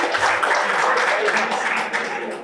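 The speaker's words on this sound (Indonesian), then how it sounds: "Beri tepuk tangan untuk mereka yang terjerat korupsi." A stand-up comedy competition audience gives a sustained burst of applause and clapping that fills the room, steady and fairly loud, then trails off slightly at the end.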